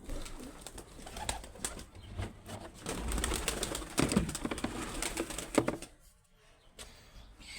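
Pigeons coo softly in a coop after feed is scattered, against a busy outdoor background with scattered knocks and rustling, fading to quieter ambience near the end.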